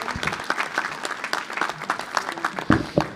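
Applause from an audience at a mayor's New Year ceremony, scattered, uneven claps rising and falling, with a few sharp louder claps near the end.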